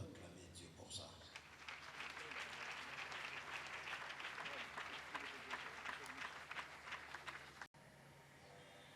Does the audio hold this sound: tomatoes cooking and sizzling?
no